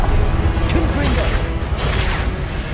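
The Confringo blasting spell is cast in the video game Hogwarts Legacy, with a loud, continuous burst of crackling, clattering combat effects and a voice layered over it.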